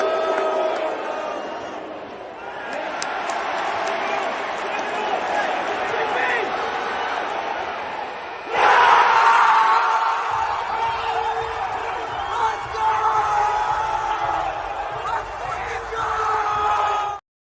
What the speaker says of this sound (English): I got to run it here as far as like elite reactions from the Garden crowd